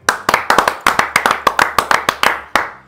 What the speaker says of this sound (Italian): quando c'è da applaudire, c'è da applaudire